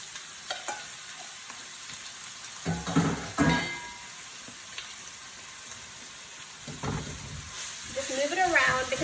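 Ground sausage goes into shimmering olive oil in a pan and starts frying, a steady sizzle broken by louder bursts of scraping and stirring as the meat is moved around, with a voice speaking near the end.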